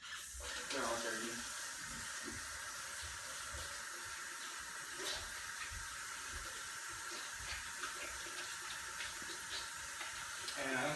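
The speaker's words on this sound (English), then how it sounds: "I'll wash my hands one more time" Running tap water pours steadily into a sink while hands are washed under it after mixing raw meat in a kitchen, a continuous splashing hiss with small shifts as the hands move through the stream.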